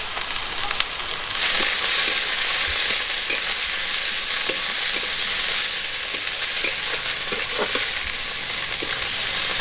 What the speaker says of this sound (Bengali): পেঁয়াজটা ভাজা হয়ে গেছে, এবার পেঁয়াজের মধ্যে দিয়ে দেবো রসুন বাটা